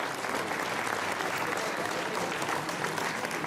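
Audience at an enduro prize ceremony gives a rider sustained, dense applause, steady and loud throughout with no pauses.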